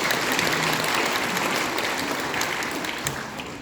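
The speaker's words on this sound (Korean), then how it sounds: "다시 한번 박수로." A church congregation breaks into sustained applause for a Seoul church choir, steady dense clapping filling a large worship hall and fading slightly toward the end, with no voices over it.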